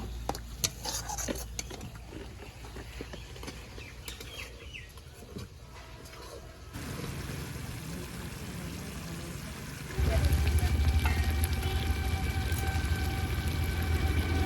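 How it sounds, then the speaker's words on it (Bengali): Spices with cumin, ginger, dried chilli paste and tomato paste fry in a pan for a pangas fish curry, with clattering utensil stirs against the pan, then a louder steady sizzle, with some talking. "এবার ভালো করে মশলাগুলো কষে নেব"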